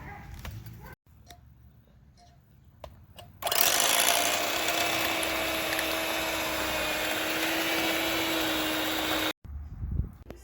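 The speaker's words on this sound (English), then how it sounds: "Now the beef is done, we're just gonna shred it." Slow-cooked beef being shredded by a loud electric mixer, a steady broadband whir running about six seconds after quieter handling noises, then stopping abruptly.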